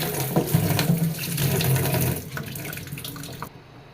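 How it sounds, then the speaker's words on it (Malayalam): Small onions are rinsed under a running kitchen tap, a close, splashing gush of water for about two seconds that then thins out and fades. "ഇതെല്ലാം കൂടി നമുക്ക് ഒന്ന് കഴുകിയിട്ട്"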